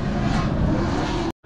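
Drift cars running hard at a Five Flags drift event, a dense, loud wall of revving engine roar with tire noise that holds steady, then cuts out abruptly near the end before picking back up.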